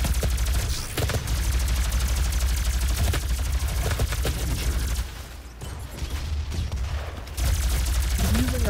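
A Gatling gun in the shooter DOOM fires in a dense, sustained roar of rapid shots through most of the stretch, easing briefly before surging again near the end.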